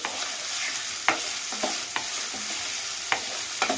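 Chopped onions fry in hot oil until golden brown, a steady close sizzle broken by sharp scraping clicks of a spatula stirring them around the pan every half second or so.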